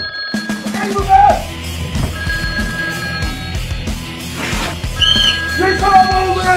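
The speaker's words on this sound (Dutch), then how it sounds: "De telefoon gaat." A telephone bell rings in repeated bursts amid a busy film scene, with voices and other clatter mixed around the ringing.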